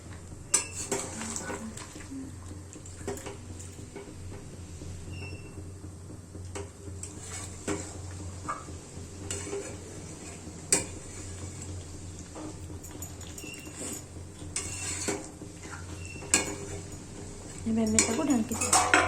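Chicken is stirred with masala in a pan for a desi chicken kosha, with repeated metallic scrapes and clinks of a spoon against the pan throughout and a louder clatter near the end.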